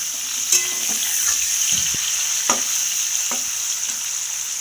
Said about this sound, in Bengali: এই যে কপিটা এখন একটু ভাজা পর্ব চলছে, আর একটু ভাজবো।